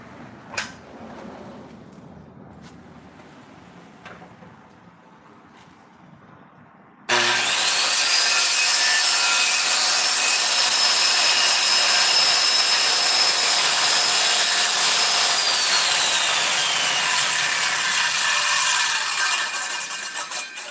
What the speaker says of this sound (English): wait until the saw stops spinning to pull it out so you don't chip it on the way back